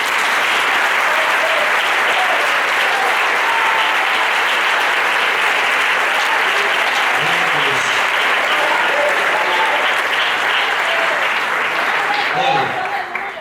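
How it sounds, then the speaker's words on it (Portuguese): Congregation applause at a revival church service, loud sustained clapping from a large crowd that holds steady for over thirteen seconds, with faint voices briefly audible beneath it near the middle and end. "Vamos aplaudir Jesus."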